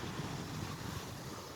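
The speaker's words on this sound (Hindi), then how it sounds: "बहुत अच्छी हवा आ रही है।" Strong wind blows by the sea near Muttrah, Oman, a loud, steady rush of broadband noise buffeting the microphone, with no voices.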